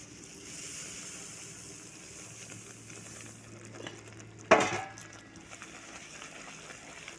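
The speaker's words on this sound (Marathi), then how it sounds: "तर त्याच्यामध्ये मी हे जे तीळ आहेत ते मी टाकून घेते." Sesame seeds stirred into hot jaggery syrup in a pan for til vadi, a steady bubbling sizzle and scraping with one sharp clatter near the middle, no voices.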